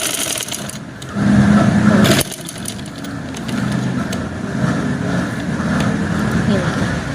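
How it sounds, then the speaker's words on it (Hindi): A sewing machine stitches kurti fabric, its steady motor whir running close and loud with a brief louder burst early on, then continuing evenly to the end. "अब हम इस पर सिलाई लगा देते हैं।"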